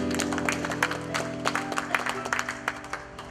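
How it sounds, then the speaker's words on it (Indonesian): A church gathering gives a round of applause for a person in an Indonesian service, many hands clapping in a crowd, with a sustained musical tone underneath and scattered sharper claps standing out. "Berikan tepuk tangan buat dia."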